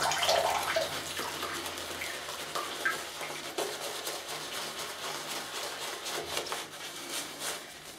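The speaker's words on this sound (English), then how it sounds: "Make sure there's enough water in it because that's what gives you the slickness." Water is worked into a thick shaving lather in a bowl, giving wet swishing and splashing sounds with small clicks and taps, steady and close.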